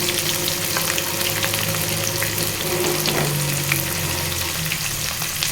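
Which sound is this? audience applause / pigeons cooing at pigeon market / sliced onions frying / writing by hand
sliced onions frying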